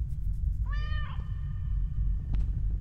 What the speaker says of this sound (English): Kitty's here.